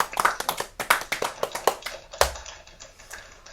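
A small group clapping for badge winners at a virtual school assembly, a quick scattered burst of hand claps that thins out and fades after a couple of seconds.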